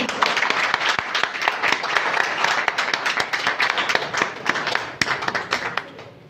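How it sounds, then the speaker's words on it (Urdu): An audience at a women empowerment project event and Quran recitation contest claps steadily for several seconds, with dense overlapping handclaps that thin out toward the end. "آپ کی بھرپور تالیوں میں."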